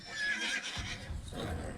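A horse neighs loudly in a drama scene, giving a high, wavering whinny followed by lower snorting and movement sounds.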